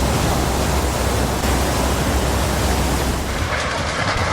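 Floodwater roaring through Kullu during cloudburst flooding, a loud, dense, unbroken rush of water that keeps up steadily from start to finish with no voices.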